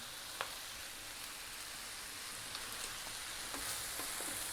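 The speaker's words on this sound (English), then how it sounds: "We're now going to drop in our rice. Cold, day-old rice if you can." Cold, day-old rice lands in a hot pan for chicken fried rice, setting off a steady, fairly quiet sizzle with a few scattered crackles and pops.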